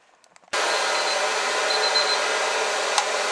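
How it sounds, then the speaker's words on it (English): Hot air popcorn popper switches on with a sudden click and runs as a loud, steady, close whooshing roar. "I'm going to get my corn popper going, and it's going to be loud."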